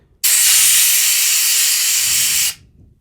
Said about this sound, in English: Then just spray it away with my air compressor.